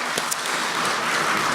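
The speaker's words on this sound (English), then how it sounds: "So I kind of give you guys a round of applause for that as well" An audience at a youth poetry contest breaks into applause, a steady wash of many hands clapping at even loudness through the whole stretch, with no voices over it.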